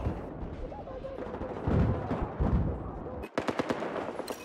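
Gunfire in Battlefield 4 on the Dragon's Teeth Lumphini Garden map, rapid bursts of close shots ending in a rhythmic volley of sharp cracks, heard under loud game noise with no clear talking.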